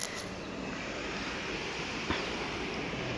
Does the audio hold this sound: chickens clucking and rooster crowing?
no